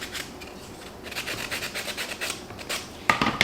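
Painted wooden clipboard frame being sanded by hand to distress the paint, short rhythmic scratchy rubbing strokes, close and fairly quiet, with a brief clatter near the end.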